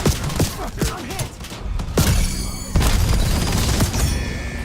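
A frag grenade blast in a video game boss fight, heavy booms and thumps amid ongoing gunfire, loud and close, followed by a rumbling, crackling aftermath.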